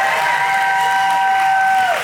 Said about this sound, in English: Oh, you clap now